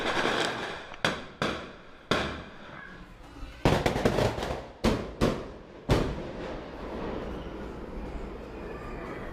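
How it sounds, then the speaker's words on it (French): Mortar fire in a Rio favela: a string of loud, sharp blasts, about ten in irregular bursts, each followed by a ringing echoing decay. The final blasts trail off into a steady noisy rumble. "Le bruit, c'était à nouveau des tirs de mortier pour dire que nous sommes là."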